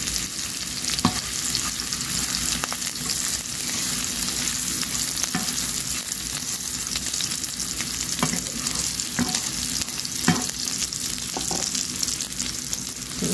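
Ginger sizzling and frying in a hot pan for an egg dish, a steady loud crackle with occasional sharp stirring clacks and scrapes throughout, no voices.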